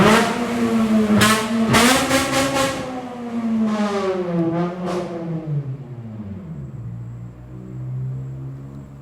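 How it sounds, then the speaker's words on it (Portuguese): A motorcycle passes close by, its engine revving hard in several rising and falling bursts before the sound fades away into the distance. "Passou alguém aqui acelerando a moto de um jeito que não tem como ignorar."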